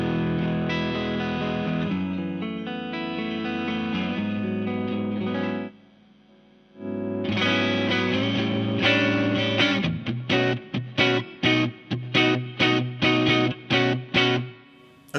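Jazzmaster electric guitar played through a PartsMaster Caster Clean pedal, sustained strummed chords ringing out, a brief pause, then more chords and a run of choppy staccato strums, clean tone with slight ambience.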